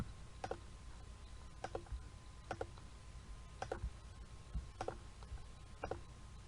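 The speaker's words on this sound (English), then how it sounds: "you just keep clicking next all the way through to the end" Computer mouse clicking through the pages of an online quiz, with about seven sharp double clicks spaced roughly a second apart over a low, steady room hum.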